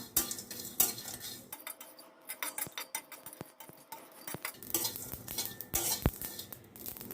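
Spices are lightly dry-roasted in a pan, with a metal utensil scraping and tapping repeatedly in quick, irregular strokes against the pan, close and moderately loud, and no talk.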